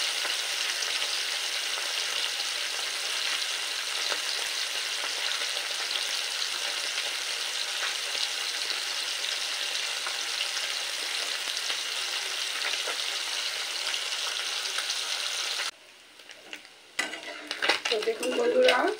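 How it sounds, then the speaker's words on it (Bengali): Piali fish frying in a pan, a steady dense sizzle with occasional stirring and utensil scrapes, close and continuous for about fifteen seconds before dropping off abruptly to quieter clatter. "দুবারে মাছগুলোকে ভেজে নিই।"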